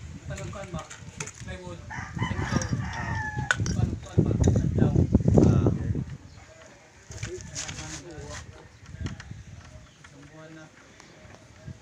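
Roosters crow and hens cluck amid a busy outdoor scene, with people talking over them throughout.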